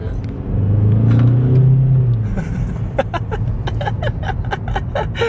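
A Seat FR diesel car engine revs up in a deep rising rumble, holds and then eases off, followed by a series of sharp rhythmic clicks while the engine idles nearby.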